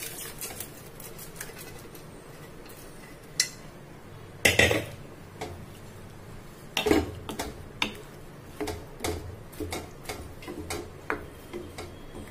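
Mashed black chickpeas going into a pan for a sambhar-masala curry, with a metal spoon scraping and tapping. Clinks and knocks arrive irregularly over a low steady sizzle, with two sharper clatters standing out partway through. No one speaks.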